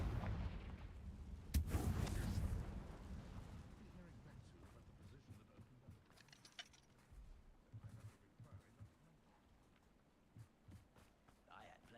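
Confringo fire spell blasting in Hogwarts Legacy, a deep booming burst followed by a rumbling decay and scattered crackles as the fight continues.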